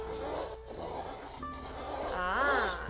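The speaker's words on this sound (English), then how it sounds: "the tap wheel is that zipping sound you hear" A glass cutter fitted with a tap wheel scores across a glass sheet, giving a close, continuous rasping zip with a slightly textured, buzzing grain that rises toward the end, with no speech.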